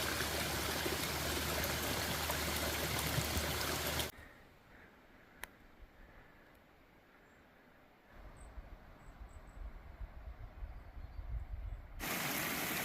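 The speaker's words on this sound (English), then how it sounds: "every single water source is flowing beautifully" A stream along the Appalachian Trail rushes in a steady broadband wash, loud and close at first, then dropping to a quiet distant murmur before the full flow returns.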